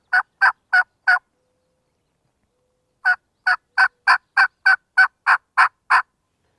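A turkey mouth call imitates a hen's yelp: a crisp group of four notes, a pause, then a longer even run of about ten yelps, loud and close with nothing else behind them.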